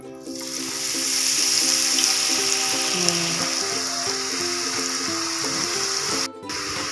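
Battered papaya pieces fry steadily in hot oil with a bright, continuous sizzle, close and even, while a soft tonal hum runs underneath.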